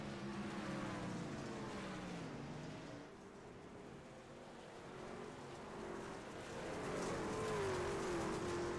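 Dirt-track racing trucks on the final lap at Port Royal, a steady distant roar of several engines rising and falling as the pack passes, with no talk over it.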